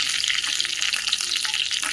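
Mustard seeds sizzle and crackle in hot oil as a tempering for homemade mango pickle, a close, continuous spitting hiss with small pops, heard alone.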